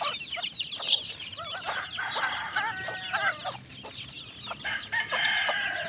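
Young chicks peep constantly with high, rapid chirps while a mother hen clucks among them at feeding time in a small backyard coop, a busy close-up chorus with no talking.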